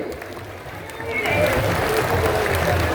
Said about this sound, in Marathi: टाळ्यांचा गजर बंद होता कामा नये